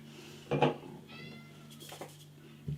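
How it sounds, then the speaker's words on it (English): A house cat meows in a short indoor bout, one clear meow near the start followed by a fainter second call, with soft kitchen clatter and a low background hum. "I got a really vocal cat."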